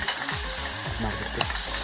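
Potatoes and beans are stirred with chili powder, turmeric and salt in a pot over a campfire at a night tent camp in Agumbe: a short burst of sizzling with a few scraping strokes of a spoon, close up.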